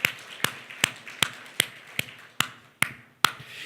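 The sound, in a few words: congregation clapping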